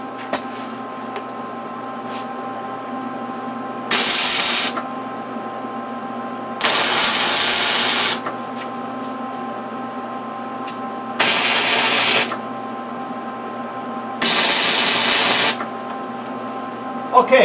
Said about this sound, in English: Let's start welding.